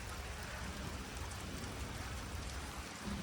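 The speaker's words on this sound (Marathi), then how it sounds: "मस्तपैकी पाऊस पडायला लागला आहे." Steady rain falls on a village during a festival outing, a soft, even hiss that does not change over a few seconds, with no voices.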